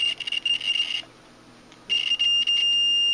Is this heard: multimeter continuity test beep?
yes